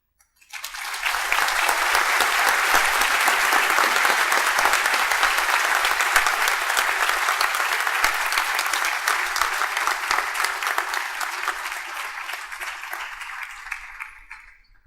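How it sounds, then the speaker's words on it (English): Loud, sustained applause from a graduation ceremony audience, steady for about thirteen seconds before tapering off, dense clapping filling the hall with no speech over it. "One more round of applause for her."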